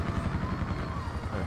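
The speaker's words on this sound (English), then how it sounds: "They got like two attack choppers." Attack helicopters in the video game Call of Duty Black Ops 4 give a continuous low rotor drone, loud and close, running steadily throughout with no talk over it.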